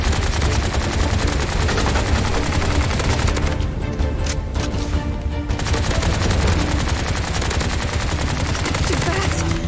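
Loud, dense video game gunfire, rapid machine-gun bursts overlapping almost without pause across the whole stretch, with a brief thinning near the middle before the barrage picks up again.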